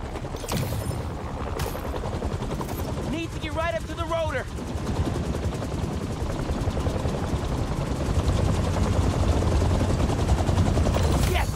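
Helicopter blades chop steadily in Marvel's Spider-Man 2 on PS5, a loud, continuous rotor roar with rapid gunfire mixed in and a brief voice partway through.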